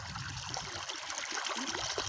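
Irrigation water flows out of a 2,000-foot farm pipeline into a field, a soft steady rush and trickle heard at a moderate distance with no voices.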